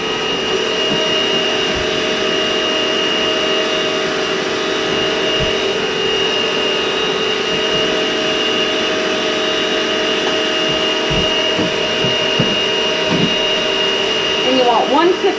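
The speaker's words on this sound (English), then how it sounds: "We want to make sure that the eggs are well blended before we go on to the next step," An electric mixer or blender whirs steadily as eggs are beaten for a pumpkin cake in a home kitchen, a loud continuous motor hum running throughout with occasional faint knocks.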